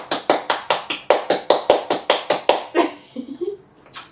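One person clapping their hands in celebration of reaching a personal goal, about a dozen sharp, evenly spaced close claps, then a short murmured voice and one last clap.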